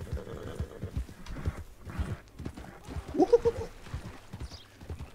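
Horse hooves clip-clopping in Red Dead Redemption Online, a steady rhythmic run of hoof beats at moderate volume with a short whinny in the middle, and no talk over them.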